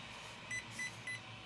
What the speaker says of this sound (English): As you see, it's going to beep.